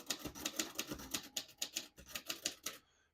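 A 1949 Royal Quiet De Luxe portable typewriter backspaces in a quick, even series of about fourteen crisp mechanical clacks, close and clear, before stopping abruptly.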